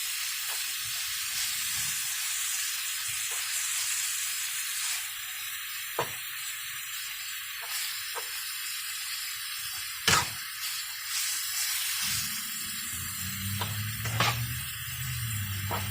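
Ground meat for lasagna sizzles in a pan with a steady hiss, punctuated by a few sharp spatula scrapes and knocks as it is stirred, close and without talk.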